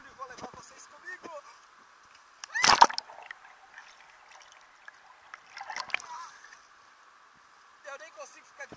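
A person dives into a swimming pool at the beach, producing one sharp, close splash, followed by softer water sloshing and scattered voices talking nearby.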